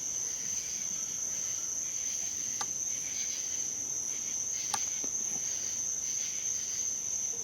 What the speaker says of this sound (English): there's so many insect and frog noises competing with the other potential noises